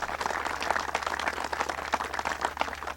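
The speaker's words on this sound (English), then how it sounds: "Let's give him a round of applause." An outdoor crowd at the Oyster Bay Harbor cleanup in Teddy Roosevelt Park claps for County Executive Ed Mangano, a dense, steady patter of many hands for about three seconds with no speech.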